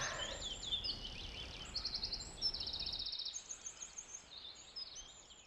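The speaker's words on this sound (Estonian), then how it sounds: "linnud laulavad" Birds sing outdoors with high, scattered chirps and trilling phrases repeating throughout, faint against a soft background hush that drops away midway.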